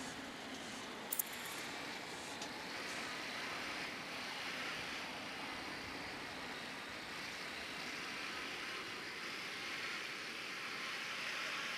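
A drone in the video game Ghost Recon Wildlands hums steadily with an airy, engine-like drone, holding a constant level throughout with a brief click near the start and no talk.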